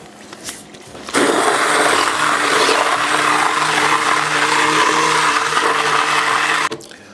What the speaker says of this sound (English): Now let's get our immersion blender and get it going.